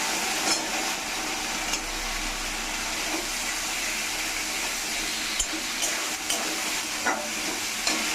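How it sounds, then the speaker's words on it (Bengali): Potatoes fry and sizzle in a pan of cooked-down spice masala, giving a steady close hiss broken by faint scrapes of stirring. "এর মধ্যে দিয়ে দেবো আমি আলু।"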